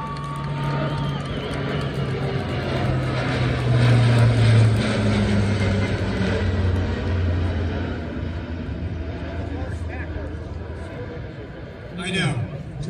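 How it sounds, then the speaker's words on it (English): An Air Force C-130 propeller aircraft passes overhead at the National Championship Air Races in Roswell, New Mexico, its engine drone swelling then easing away beneath ongoing talk and crowd noise. "if you look overhead, we're having a flyby with a C-130"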